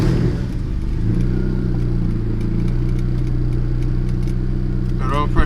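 A turbocharged Honda Accord with a major oil leak runs on its first start of the year, its engine holding a steady, loud idle throughout.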